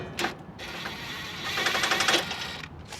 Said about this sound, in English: we're just gonna go ahead and take off the lower control arm here and pull out the whole knuckle, lower control arm, ball joint assembly all together